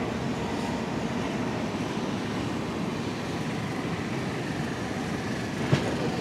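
Netravati Express train running toward Kuttippuram station, heard from on board as a steady broadband rumble with rolling wheel clatter and a brief squeal near the end, no voices.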